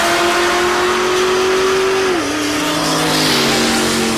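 Diesel pickup truck drag racing at Tulsa Raceway Park, a loud close engine roar holding a steady pitch before dropping as it shifts, then pulling on at full power.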